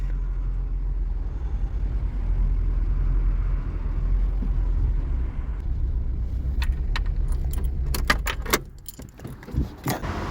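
Classic car engine idles steadily with a low, even rumble after the choke is pushed back in, joined near the end by a few sharp metallic clicks and knocks.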